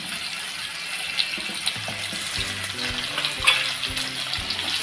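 Chopped onions and chillies sauté in a pan for a Maharashtrian banana flower bhaji, giving a continuous crackling sizzle with repeated stirring scrapes and occasional sharper clicks.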